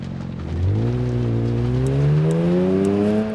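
Up close, a car engine revs from idle, its pitch climbing steadily and holding at a loud, droning whine.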